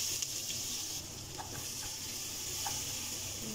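Steady sizzling of onions frying in oil, with occasional stirring clinks, close and continuous.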